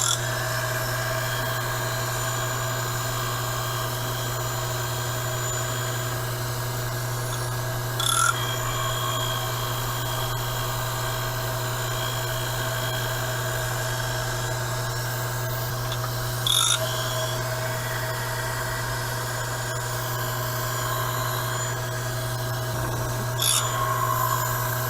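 A surface grinder takes a final pass across a Kurt D60 vise, giving a steady, loud hum and whine that runs throughout with a few brief louder scrapes.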